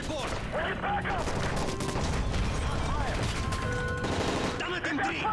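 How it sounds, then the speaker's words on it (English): Rapid, sustained gunfire during a plane hijack in Call of Duty: Modern Warfare 3, with dense bursts of automatic shots and crashes continuing loudly throughout, mixed with shouted voices. "That's gunfire!"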